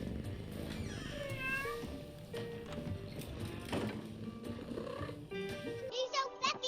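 A cat in the video game Hello Neighbor 2 gives a few rising meows early on, mixed with game music and background noise, with a brighter chiming sound near the end.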